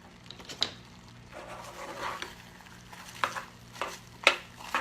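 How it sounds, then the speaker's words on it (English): Popcorn being stirred into a bubbling mixture in a pan for a clean-eating snack, giving a soft sizzling bed with a few scattered scrapes and clicks from the spoon. "we're gonna drop our popcorn right in"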